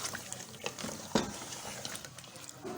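Mutton trotters with yogurt are stirred and sautéed in a pan, with quiet scraping and clinking spoon strokes over a low sizzle, marked by one sharper knock in the middle.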